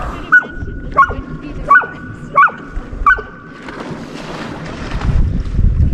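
A dog barks in a regular series of five sharp, evenly spaced yelps close by outdoors at a water's edge on a high mountain pass, with wind rumbling over the microphone and splashy noise rising toward the end.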